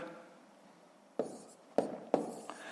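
A pen scratches numbers onto paper while a decimal column-addition sum is worked out, three short crisp strokes following a quiet stretch.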